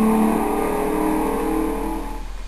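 A '69 Camaro engine in the video game Midnight Club 3 Dub Edition Remix, a revving engine note that holds and then fades off over a couple of seconds, with no speech.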